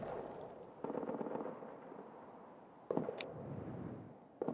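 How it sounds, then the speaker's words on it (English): Artillery shells exploding in the World War I trench game All Quiet in the Trenches, a run of rumbling booms with sharper bursts near the three- and four-and-a-half-second marks, fairly loud with no talk over them. "Why has Hunt just been exploded by artillery"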